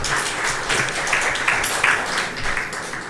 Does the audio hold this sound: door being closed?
no